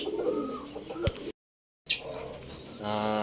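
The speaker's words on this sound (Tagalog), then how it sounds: "Magpapakain lang ako ng kalapate guys." Pigeons being fed at a loft during a racing pigeon derby give soft, close coos and bird calls, with a short silent break partway through and a steady low harmonic hum near the end.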